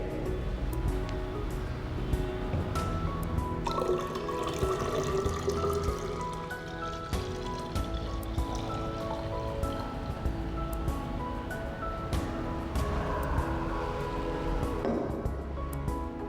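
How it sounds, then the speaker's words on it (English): Water, 500 milliliters, poured into a 1 liter measuring cylinder, a continuous close splashing and gurgling stream lasting throughout. "We now pour this 500 milliliters water into this 1 liter measuring cylinder."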